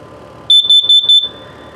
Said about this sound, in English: This is your carbon monoxide LP gas detector here.